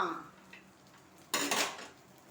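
Cooked paniyaram made with mullu murungai greens is lifted from the pan: a faint light clink, then a short, louder metallic scrape and clatter.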